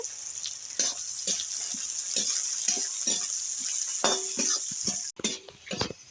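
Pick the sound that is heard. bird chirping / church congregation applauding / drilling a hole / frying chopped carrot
frying chopped carrot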